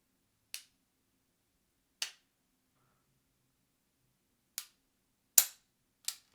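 Sig Sauer P226 Legion double-action trigger dry-fired, giving five sharp, crisp clicks close by at uneven intervals, each isolated in near silence with no talking.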